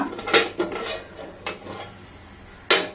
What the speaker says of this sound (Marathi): झाकण उघडून पाहूया।